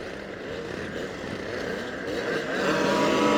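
Stock scooters heading off on a sighting lap at Anglesey race circuit, engine buzz building steadily and growing louder toward the end, heard from a moderate distance.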